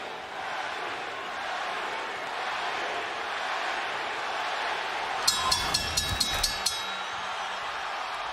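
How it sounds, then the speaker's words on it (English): A Filipino crowd chants for Manny Pacquiao at his boxing fight with Oscar De La Hoya, a steady distant roar filling the arena, with a burst of sharp clinks and thuds toward the end. "The Filipino crowd chanting for Pacquiao as he moved toward the center of the ring"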